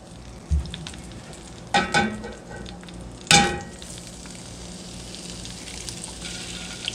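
Eggs cracked into a hot pan over lowered heat, with a steady soft sizzle of frying throughout and a few sharp clacks and taps of cracking shells standing out, close by and with no talk.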